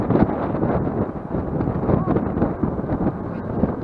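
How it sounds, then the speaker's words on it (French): Wind buffets a camera microphone while riding a Burchda RX80 bike on an open road beside fields, a constant loud low roar and rumble that fluctuates throughout. "On sent bien le vent."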